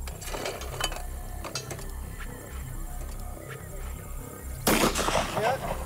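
A single loud shotgun blast cracks out near the end, fired during the shotgun event of the 2009 Total Outdoorsman Challenge, over low outdoor background noise and faint voices.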